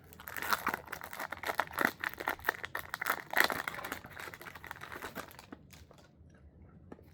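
Foil wrappers on packs of 2025-2026 Upper Deck O-Pee-Chee hockey cards crinkle and crackle close up in quick bursts, then fade toward near silence at the end.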